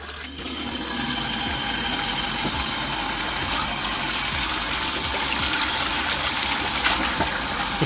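Cold water gushes hard from a mains-fed tap on an unvented cylinder system, a loud, constant rushing that swells up within the first second and holds steady throughout, with no talking.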